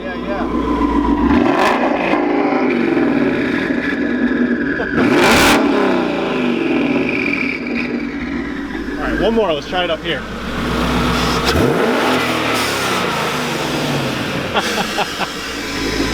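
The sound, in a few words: twin turbo Mustang engine revving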